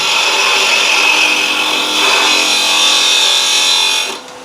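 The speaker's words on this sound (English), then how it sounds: "We're just gonna take a cut and see what we like. We're going to get rid of some of this waste wood." A spindle gouge cuts a spiral goblet of wood on a lathe, producing a loud, close, continuous shearing hiss that stays steady for about four seconds and then drops away.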